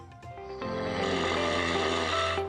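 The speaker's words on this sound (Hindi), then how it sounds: "खर्राटे लेना एक आम समस्या है।" Heavy snoring from a sleeper, a steady, loud, buzzing rasp that swells early and then holds through the whole stretch, with no one talking.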